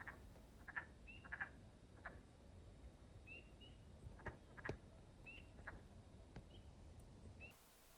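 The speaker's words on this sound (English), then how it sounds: "Wood frogs have a distinctive clucking call that can be heard mostly at night in vernal pools" Wood frogs give short, clucking croaks at night in a vernal pool in Canada, several calls spaced irregularly at a moderate distance over a quiet background.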